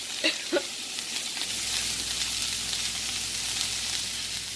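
Shrimp fry in a pan with a steady, close hiss of sizzling oil that carries evenly throughout. Two small taps or clicks sound near the start.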